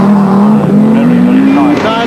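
A rally car drives past at speed, its engine a loud, steady, slowly rising drone with a brief surge near the end.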